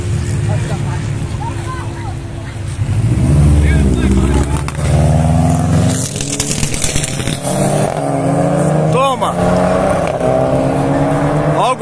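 Turbocharged cars revving and accelerating hard at a street car meet, engines roaring loudly and surging in repeated bursts, with crowd chatter and shouting throughout.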